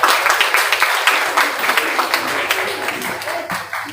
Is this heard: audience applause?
yes